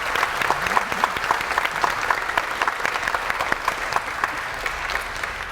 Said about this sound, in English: you all deserve a round of applause for a job well done